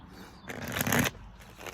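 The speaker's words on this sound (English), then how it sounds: "I need one more good shuffle" A single quick riffle of playing cards being shuffled, a short crisp burst close by, surrounded by quiet.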